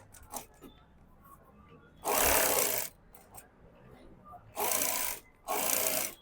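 An electric sewing machine stitches lining onto a blouse in three loud, steady whirring runs of about a second each, separated by quieter handling sounds.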